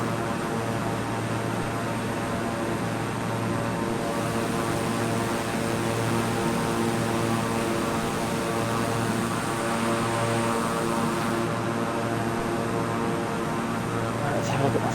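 A Beechcraft King Air 350i turboprop cruises in Microsoft Flight Simulator, its propellers and engines holding a steady, even drone with a constant tonal hum throughout.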